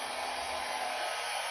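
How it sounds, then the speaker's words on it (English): A handheld blow dryer running on its cool setting: a steady, close, breathy whoosh of fan noise that holds at an even level the whole time, with no talking. "So now I'm going to grab my blow dryer,"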